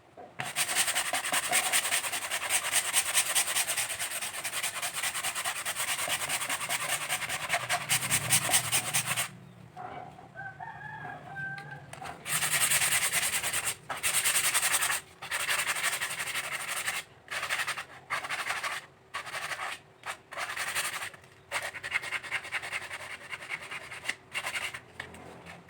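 A wooden horsebow is sanded by hand with ordinary sandpaper: close, steady rasping strokes run continuously, then break into short, repeated rubbing passes separated by brief pauses.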